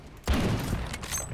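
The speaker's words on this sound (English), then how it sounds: "I'm getting shot at." A sudden burst of rapid gunfire in a first-person shooter game starts with a sharp onset and continues as a dense, loud rattle of shots to the end.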